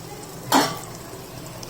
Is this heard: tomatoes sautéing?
yes